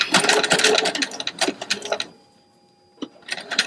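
Sewing machine stitching a row of gathering stitches, a fast close rhythmic whir of needle strokes for about two seconds, a pause with a faint hum, then a short final burst.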